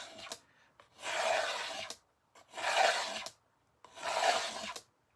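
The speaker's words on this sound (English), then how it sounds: "I am going to take my paste scraper and go across this" Paste scraper dragged across a surface to give it a weathered look, three harsh raspy scraping strokes about a second and a half long each, with short pauses between them, close up and alone.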